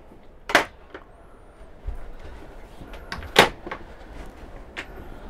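Motorhome storage locker doors on a Carthago motorhome at a show, opened and shut with two sharp latching clunks plus softer knocks and rattles between them, close by in a busy room.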